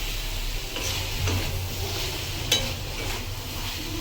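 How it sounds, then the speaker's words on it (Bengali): Chicken pieces coated in garam masala are stirred in a pan for a dry fry, with a soft continuous sizzle beneath scraping spatula strokes and an occasional sharper clink of utensil against metal. "এবার ভালো করে নাড়াচাড়া করতে হবে।"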